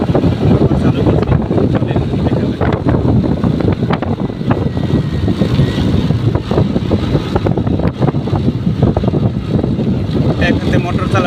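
Motorcycle ridden at night in Malaysia, with heavy wind buffeting the microphone; a steady loud rumble of engine and wind runs throughout, mixed with a voice talking.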